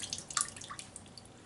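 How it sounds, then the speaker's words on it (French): Wet shaving brush dipped in a little water before lathering a natural shaving cream, giving a brief close drip and splash with soft watery trickles, no voices. "je vais prendre ma broche, je vais seulement la tremper dans l'eau un peu"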